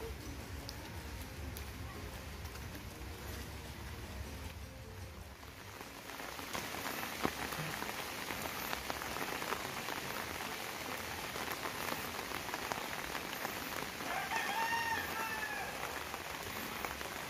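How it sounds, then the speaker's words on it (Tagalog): Steady rain hisses and patters on surfaces, growing heavier after a few seconds, with a faint bird call in the background. "Pero umuulan."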